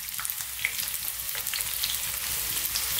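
Garlic and onions sizzle in a pot for a vegan bean and vegetable stew, a dense, even frying hiss with light crackles, close and continuous with no talking.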